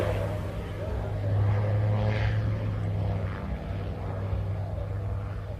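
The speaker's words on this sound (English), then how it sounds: "You can go between 0 and 120 miles an hour in the aircraft." A light propeller aircraft flies at an air show in Ayr, its engine a steady, fairly loud drone that swells slightly midway and holds throughout.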